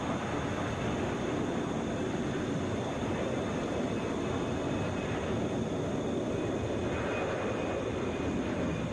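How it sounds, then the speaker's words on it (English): An American Airlines Airbus A319 takes off at Atlanta's airport, a loud, steady jet roar with broad rumble that holds at a constant level throughout. "2367 going to O'Hare. Airbus A319. Wheels are up."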